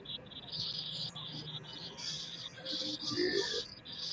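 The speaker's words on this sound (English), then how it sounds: "Can you hear the crickets?" Crickets chirp outdoors in Chicago, a faint high pulsing trill that comes and goes in short bursts over a low background murmur.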